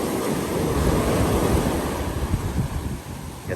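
Surf rolling onto Saud Beach in Pagudpud, a steady broadband wash of breaking waves with wind buffeting the microphone, fairly loud and continuous throughout with no voices.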